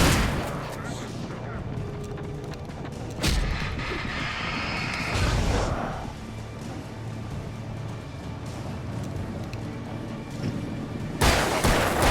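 Flare gun shots in the survival horror game Alan Wake: a few sharp, loud bursts that spread into fizzing, hissing flare burns, set against ongoing game noise and ambience.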